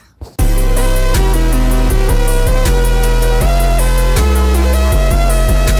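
A detuned, slightly pitched-down video game sound effect sample looped as a rage beat, with loud booming bass notes and a bright repeating chiptune melody running steadily after a brief quiet start.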